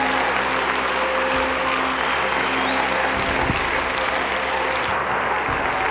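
At a church service, the congregation applauds Jesus in steady, dense clapping that fills the room without pause, with a low hum beneath and faint voices.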